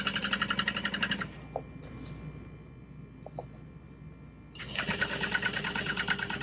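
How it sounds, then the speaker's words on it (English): A sewing machine back-stitches through vinyl in two close bursts of rapid mechanical whirring and needle clatter, separated by a quieter pause of about three seconds with a few faint clicks and no speech. "Just do a little bit of a back stitch. You don't want to perforate the vinyl."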